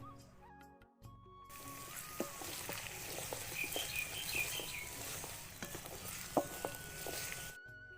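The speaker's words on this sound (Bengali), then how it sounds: "আলুগুলো আমার ভেজে নেওয়া হয়ে গেছে" Potato pieces fry in soybean oil in a wok, giving a continuous crackling sizzle with scattered pops and stirring scrapes, moderately quiet and close.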